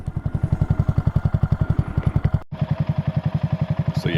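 Honda Grom 125 motorcycle with an aftermarket eBay exhaust, baffle installed, idles and revs nearby with a steady, deep pulsing thump, briefly cutting out before resuming the same rhythmic beat.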